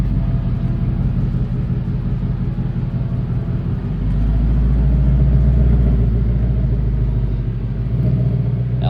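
A 2019 Mustang GT drives with a deep, steady engine rumble heard from inside or close by, swelling louder midway as it picks up speed, then settling again.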